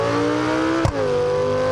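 A Lamborghini in BeamNG.drive drones with a steady engine tone, then lets out a single sharp exhaust backfire pop partway through before the engine note settles again.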